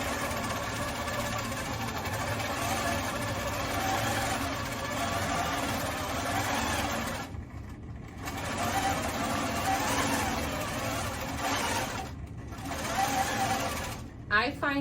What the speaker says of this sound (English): I'm pushing the machine forward with my forearm here